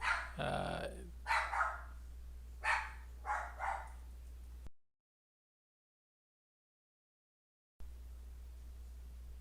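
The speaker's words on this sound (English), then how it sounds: "Sorry for that dog barking there." A dog barks a few times in short bursts, one a sharp close bark followed by smaller ones, then steady background hum with a stretch of silence.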